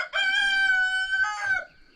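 A rooster crows once, loud and close, a long sustained harmonic call that breaks into a rougher tail near the end, with no other sounds around it.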